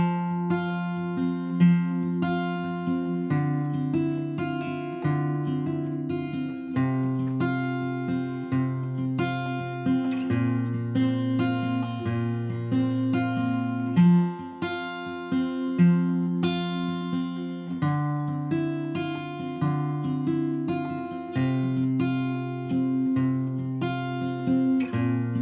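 Acoustic guitar playing a four-chord progression, with steady fingerpicked patterns ringing clearly and evenly, close and unaccompanied, no voice.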